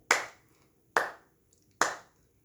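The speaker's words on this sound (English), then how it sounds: "So we're going to start with clapping." Three sharp hand claps in a slow, even rhythm, close and clear, at a children's library storytime with no talking in between.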